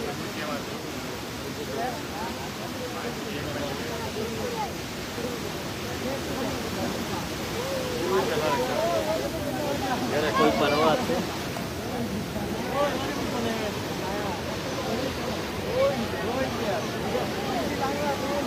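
A flooded river's strong current roars steadily close by as rising water breaks through, a broad continuous rush that swells louder midway, with someone talking over it.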